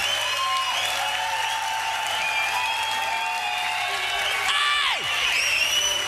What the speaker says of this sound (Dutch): Geef een geweldig applaus.